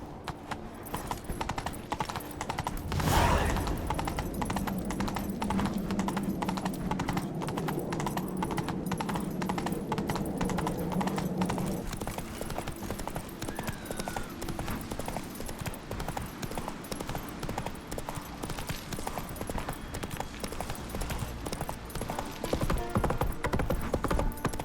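Horse hooves clip-clopping at a steady trot in The Witcher 3 video game, continuous and fairly close throughout, with a brief whinny early on and game music and ambience underneath.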